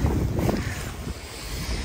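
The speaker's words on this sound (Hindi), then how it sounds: "देखा है कैसे वेव इधर आई हुई है" Water waves at Mangla Dam lapping near the shore, a loud, close rushing wash heavily mixed with gusty wind buffeting the microphone, and no voices.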